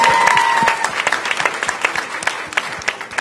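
A crowd at a mayor's public reading and fitness event applauds the city's fire chief, with loud, dense clapping that thins into scattered individual claps.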